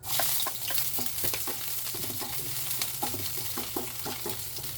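Vegetables sautéing in a little oil crackle and sizzle steadily, with quick spoon scrapes and stirring knocks repeating at an irregular pace close by.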